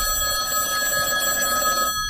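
Telephone bell ringing steadily at close range, a continuous electronic ring that stops near the end; no voices.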